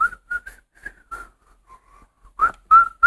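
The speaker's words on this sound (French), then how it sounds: "mets-toi siffler." A person whistles a short, broken tune in a quiet room, a few clear notes in bursts with brief gaps, ending louder and more sustained.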